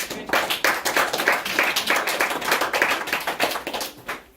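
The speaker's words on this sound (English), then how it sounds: "One more round of applause." At a senior presentation on queer history, an audience gives another round of applause, dense, steady clapping from a room-sized crowd that holds level for several seconds before tapering slightly at the end.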